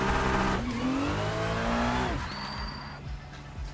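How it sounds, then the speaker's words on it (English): Tire squeal and a revving race-car engine from a racing video game, a short burnout with rising engine pitch that drops off, loud and close, no talking. "tires will warm up a bit with that little burnout"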